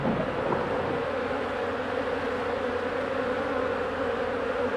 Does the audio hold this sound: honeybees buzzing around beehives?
yes